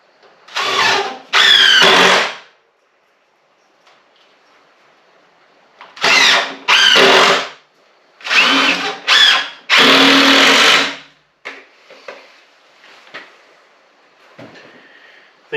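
A power drill sinks 1 3/4 inch screws into a DIY woodshed in a series of loud, close whirring bursts, each lasting one to two seconds, separated by pauses with faint handling clicks.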